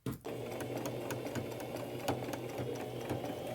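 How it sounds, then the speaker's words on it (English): A sewing machine runs steadily, zigzag stitching around the edges of a thrifted scarf fabric with a rapid, even mechanical whirr and a few louder ticks, close and alone. "go around the edges with a coordinating color of thread and a zigzag stitch"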